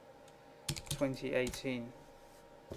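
Quick keystrokes clatter on a computer keyboard in a short flurry of clicks, mixed in with a person speaking.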